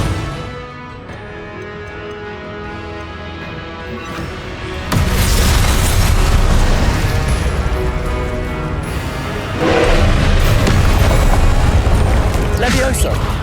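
Incendio fire spell blast in Hogwarts Legacy, a video game: quieter ambience gives way to a sudden loud roaring burst midway, followed by a second surge of fiery blasting, dense and close.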